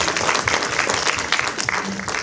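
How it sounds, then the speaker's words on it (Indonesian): A short burst of clapping from a small group for Syakil, dense and close, with a few voices mixed in underneath. "Tepuk tangan dulu dong buat Syakil."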